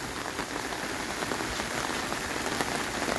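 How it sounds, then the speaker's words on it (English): Heavy rain falls in a tropical fruit garden, a dense, steady patter of drops hitting surfaces close by, continuous for a few seconds with no talk. "But all of this rain is just causing everything to flush out."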